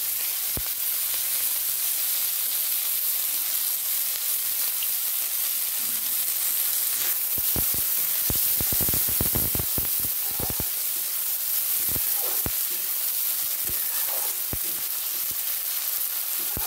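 Sugar and chopped onion frying in hot, reddened oil for a fish curry with potatoes give a steady loud sizzle and hiss, broken by a run of sharp crackles and spatters partway through, with no talking.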